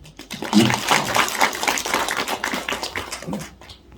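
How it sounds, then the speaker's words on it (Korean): An audience at a Daejeon citizens' human rights award ceremony breaks into applause, a crowded wash of clapping that swells quickly, holds for a few seconds, then tapers off. "박수 한번 보내주시죠"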